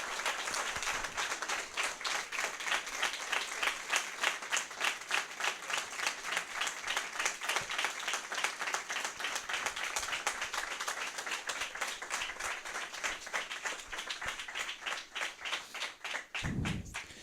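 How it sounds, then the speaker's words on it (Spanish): An audience at a talk and debate gives sustained rhythmic applause, fairly faint and distant, with steady pulsing claps lasting well over fifteen seconds. "en nombre de nuestra asamblea queremos pedir un aplauso para Carlos"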